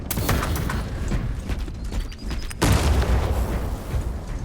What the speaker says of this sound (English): I'm just going to throw a grenade over there.